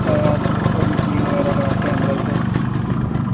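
A Yamaha RX135 two-stroke motorcycle engine runs steadily at a low, rattly idle while someone talks over it, the buzzing putter staying close and continuous throughout.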